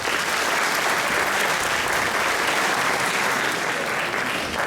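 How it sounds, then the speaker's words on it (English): An audience at a college Teacher's Day event gives the teachers a loud, dense, sustained round of applause that fills the hall evenly from start to finish, with no voices standing out. "a big round of applause to all the amazing teachers"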